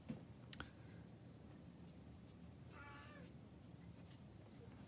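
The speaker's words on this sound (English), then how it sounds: "my cat really wants to draw too." A house cat gives one brief meow partway through, set against a quiet indoor background with a few faint clicks.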